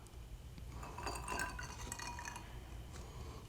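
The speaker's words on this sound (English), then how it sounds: "You stir it up." A spoon stirring a Rum Chata and Fireball drink in a glass, giving a few soft, close clinks and swishes over a low background hum.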